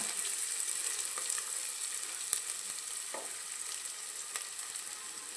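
Green chillies and onion fry in a pan with a steady, close hiss of sizzling oil and a few soft stirring clicks, no voices.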